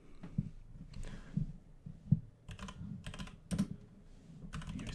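Keys clack on a computer keyboard as a terminal command is typed, with irregular close taps and short pauses and no voice.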